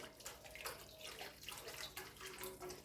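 Hot water poured from a height into a soup pot of fried tomato paste for Antakya-style aya soup, a steady splashing pour that runs on without a break and sounds close.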